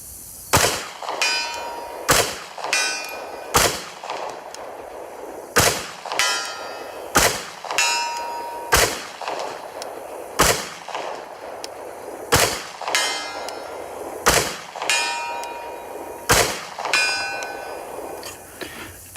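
A Ruger LC Carbine in 45 ACP fired standing at steel targets 100 yards away: about fourteen sharp shots at irregular intervals, each quickly followed by a faint ringing clang of the steel, with no talk.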